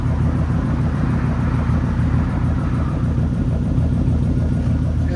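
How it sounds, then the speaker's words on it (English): A 2006 RAM 1500 with a 5.7L HEMI V8 and true dual straight pipes idles steadily, a deep, even low rumble held close and constant with no revving and no voices. "That's idle, guys. So the idle, it's pretty clean, quiet."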